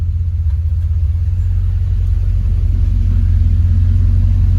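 A car engine idles with a steady, low rumbling drone, close by and constant, with no voices, its transmission leaking fluid.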